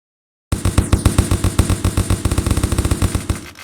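Dual-wielded pistols in a video game let off a rapid, evenly spaced stream of loud, punchy shots after a brief silence. The close, rhythmic firing lasts about three seconds before cutting off.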